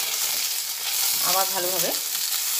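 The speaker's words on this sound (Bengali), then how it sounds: "এটা একটু তেলের মধ্যে নাড়াচাড়া করে নিচ্ছি।" Turmeric and Kashmiri chili powder stirred in hot oil for a katla fish tel chorchori, a steady bright frying hiss throughout with a brief voice speaking over it midway.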